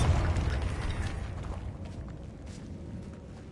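A Bombarda spell explodes in the Hogwarts Legacy video game: a heavy blast right at the start that decays into a long rumbling tail, moderately quiet, with no voices.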